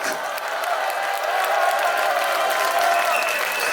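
Sustained crowd applause at an outdoor protest rally in Changwon, South Korea, loud and dense, with a faint background of cheering from a sizable audience throughout.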